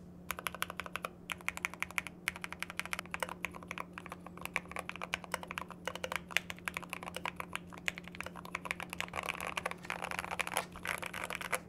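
A GMMK Pro mechanical keyboard is typed on steadily at close range, giving a dense run of quick key clacks, faint and alone apart from a low steady hum.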